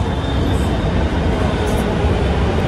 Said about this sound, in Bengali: আমাদের মেট্রো চলে এসেছে